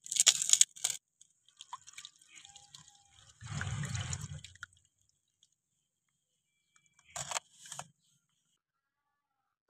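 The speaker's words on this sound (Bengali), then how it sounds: "আমি এইভাবে বারবার করে জল পাল্টে পাল্টে ধুয়ে নেব" Market-bought wheat grains are swished and rinsed in water in a bowl, with short bursts of splashing and sloshing separated by quiet pauses, close and fairly soft.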